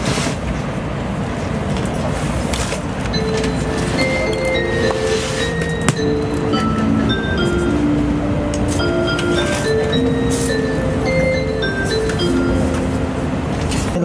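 A Tokaido Shinkansen train running from Tokyo toward Kyoto, heard from inside as a loud, steady rumble with a bright chime melody ringing over it.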